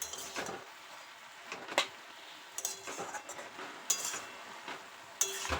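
Spinach and mixed winter vegetables stirred in a pan with a utensil, giving soft scrapes and a few sharp metallic clinks and taps at uneven intervals, close and fairly quiet.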